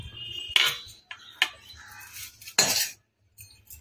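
Cauliflower dhoka mixture is scraped out of a wok onto an oiled plate, producing several close metallic scrapes and clinks of a spatula against metal with short pauses between.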